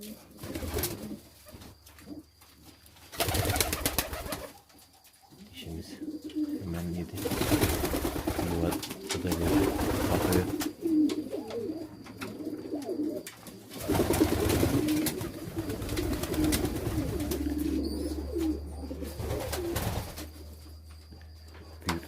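Pigeons cooing repeatedly during evening feeding at a loft, with soft fluttering and scuffling, moderately close, mixed with background noise and occasional talk.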